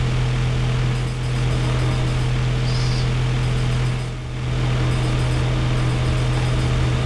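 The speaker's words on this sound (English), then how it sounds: "This is the sound of those annoying spider bots" Spider bots from the video game Deus Ex moving about, giving a steady, continuous mechanical whirring hum with a low drone and a brief dip midway, with no talking.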